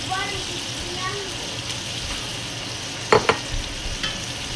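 Leeks go into a pot for a Cameroonian bitter leaf goat sauté and fry with a low, steady sizzle. A couple of sharp metallic knocks from a spoon on the pot stand out, and a voice can be heard faintly in the background.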